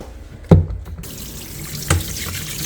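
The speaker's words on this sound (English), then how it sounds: "I'm just going to put him in the tub. We're going to wet him up nicely" Water runs from a tap into a tub to wet a Yorkie for grooming. There is a short splashing gush near the start, then a softer steady flow with a second splash. No voices are heard.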